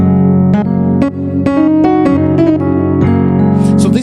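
Grand piano software instrument playing a series of struck chords in a steady, loud progression, each attack clearly separated and the notes ringing sustained beneath one another.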